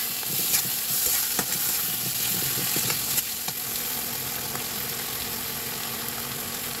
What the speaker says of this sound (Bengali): দিয়ে আমি এটা ভালোভাবে একটু মিশিয়ে নিই